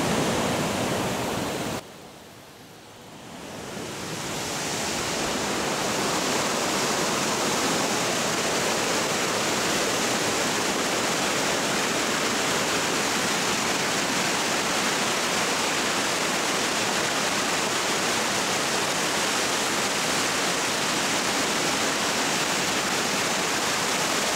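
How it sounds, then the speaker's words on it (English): A dense, steady roar of a waterfall at Mammoth Spring, Arkansas fills the whole clip, briefly dipping near the start before returning to a constant loud rush. "You can hear the falls behind me."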